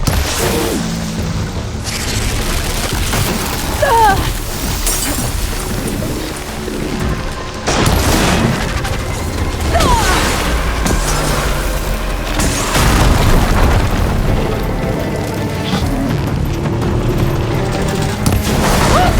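Explosions in the video game Horizon Forbidden West: a long run of heavy booms, crashes and rapid bursts, loud and near, recurring in waves, with game music and effects beneath and no talk.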